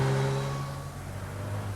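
Prototype sports motorcycle engine, a road-legal racer with an F1 conversion kit, running at low speed with a steady mechanical drone and noticeable clatter, continuous and fairly close throughout.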